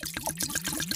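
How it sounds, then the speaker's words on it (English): Red wine glugs from a bottle into a water distiller, a quick rhythmic gurgling pour lasting about a second, close and fairly quiet. "let's begin the experiment by pouring the bottle of red wine into the water distiller like this"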